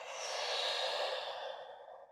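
A long, soft exhale rushes out during a vinyasa yoga forward fold, a single close breathy sigh lasting about two seconds that fades at the end.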